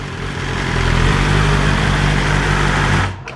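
A new 2023 BMW M 1000 RR motorcycle engine idling just after start-up, a loud steady close rumble with a constant throb that cuts off abruptly near the end.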